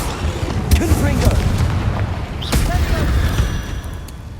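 A Confringo fire spell bursting in Hogwarts Legacy, a loud booming blast with crackling fiery rumble, followed by a second impact, with a voice over the combat noise.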